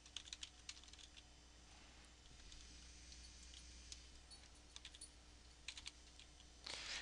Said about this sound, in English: this is just a fake email address I'm typing in